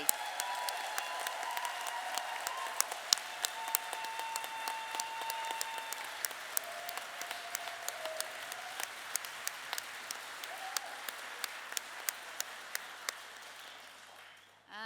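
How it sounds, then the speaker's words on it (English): An audience at the Emma Humphreys Memorial Prize giving ceremony at FiLiA 2021 applauds the international prize winners with dense, sustained clapping for about fifteen seconds, faint tonal sounds mixed in before it cuts off. "another huge round of applause for the international prize winners"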